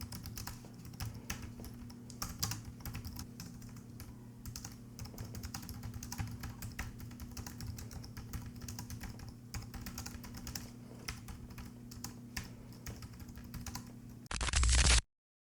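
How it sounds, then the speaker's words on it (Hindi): Normal typing on a Logitech Pop Icon keyboard gives a fast, steady patter of close key clicks over a low constant hum, running continuously before ending in a brief louder burst. "और जब आप नॉर्मल टाइपिंग कर रहे होगे कुछ इस तरह की आवाज आएगी।"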